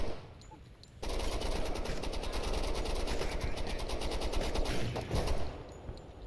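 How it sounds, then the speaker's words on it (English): Dense suppressive gunfire in the tactical video game Door Kickers 2 during a bridge assault, loud continuous rapid automatic bursts that kick in after a brief lull and keep going, with game sounds layered underneath. "We're gonna get these frags out while we've still got suppressive fire going downrange."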